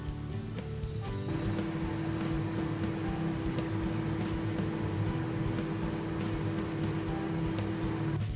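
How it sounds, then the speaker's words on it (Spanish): A microwave oven runs with a steady, low electrical hum while cooking a vegan mug cake in a cup, faint and even throughout after a soft click near the start. "ponemos la rodajita encima y al microondas"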